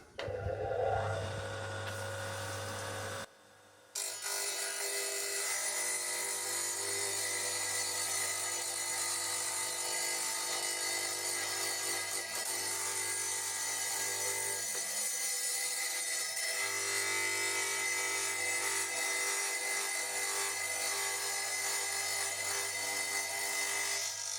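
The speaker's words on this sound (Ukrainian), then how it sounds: "плитку можна різати і звичайною кутовою шліфувальною машинкою" An angle grinder whines steadily and loudly as it cuts through wet tile, briefly dropping out near the start before grinding on continuously.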